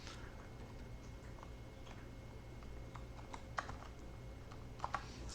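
Soft, scattered clicks of a computer keyboard being typed on, faint and irregular against a low background hum.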